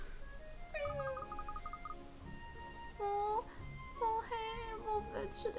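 Cartoonish cat meows from the video game Layton's Mystery Journey, several short tonal mews and whimpers spread across the clip over a quiet background, with a soft voice murmuring in places.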